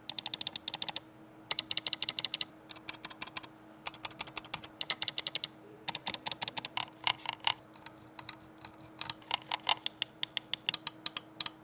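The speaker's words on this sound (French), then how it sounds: "Je vous fais entendre juste la souris." Quick bursts of sharp, close clicking in irregular clusters with short quiet gaps from a computer mouse being clicked rapidly.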